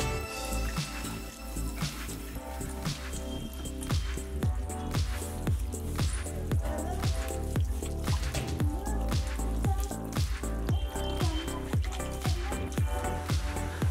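Hair mask being rinsed out of long straight hair with plain water, no shampoo, wet dripping and squishing sounds in a quick irregular rhythm, close up and continuous throughout.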